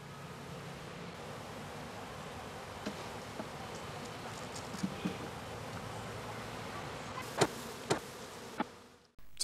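Honey bees buzzing steadily around an opened Langstroth-Root multi-storey hive during work outdoors, a continuous near hum with a few brief knocks and clicks toward the end.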